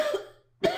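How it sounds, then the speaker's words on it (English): A man coughs twice during an online training webinar, two short close bursts separated by a brief silence. "I got a little coughing to do here."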